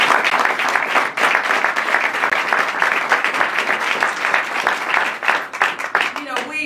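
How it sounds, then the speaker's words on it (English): Audience applause at a New Orleans key-to-the-city ceremony, a sustained, dense round of clapping that carries on steadily throughout with a brief fade near the end. "please just give another round of applause"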